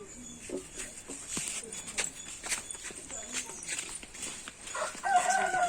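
Chickens clucking and a rooster crowing in a busy outdoor yard, with people talking nearby and other farmyard noise throughout.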